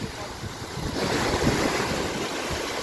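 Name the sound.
Mediterranean Sea waves on Cyprus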